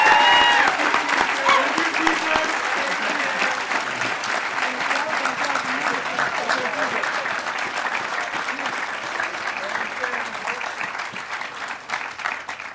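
A crowd of graduates and parents at a 2024 high school commencement ceremony gives a long, hearty round of applause for the faculty. Dense, sustained clapping fills the hall and slowly tapers, with brief talk at the start.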